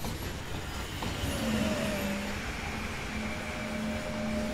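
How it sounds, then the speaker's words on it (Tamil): A very long freight train rolls steadily past close by, a continuous rumble of wagons with faint wheel squeal and rail noise throughout, no voices. "ஆனால் செம்ம பெரிய ட்ரெயின் கைஸ்."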